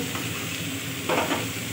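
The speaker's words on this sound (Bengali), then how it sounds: "খোলা অবস্থায় একটু ভালো করে ভেজে নেব।" Vegetables sizzle and crackle in an open pan, a steady close frying hiss with a brief louder burst as they are stirred.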